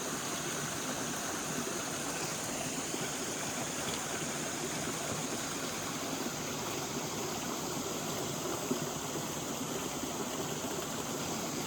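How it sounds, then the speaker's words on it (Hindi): A mountain stream on a Himalayan trek trail in the Panch Kedar region flows in a constant, full rushing wash that holds even and unbroken throughout, with no voices. "झरने वाला पानी थोड़ा थोड़ा सा सोच सोच के आ रहा है"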